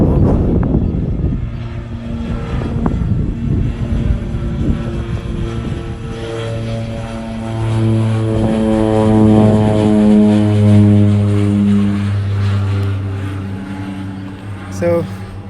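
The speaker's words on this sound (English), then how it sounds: "plane taking off, the one that was taxiing, now taking off from Ogle" A propeller plane's engine drones steadily and swells louder as it takes off from Ogle regional airport in Guyana, a rising harmonic hum with faint talk nearby.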